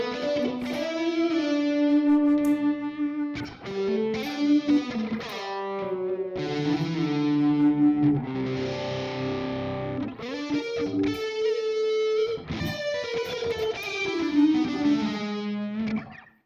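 An electric guitar on its neck pickup plays a warm, rolled-off, slightly overdriven tone, sustained melodic lines and chords ringing continuously for about sixteen seconds with no talk.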